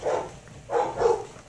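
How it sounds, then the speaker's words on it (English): A dog barks indoors three times: one bark, a short pause, then two quick barks in succession, moderately loud and slightly muffled, with no talking. "I'm so sorry about the barking."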